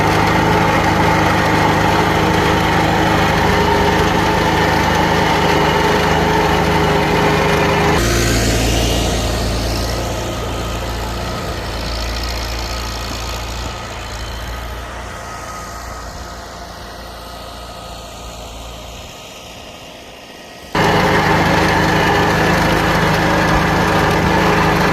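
A snow-clearing machine with a blade works a driveway, its engine droning loud and steady, easing into a slightly lower, strained tone midway before returning to a full, even roar.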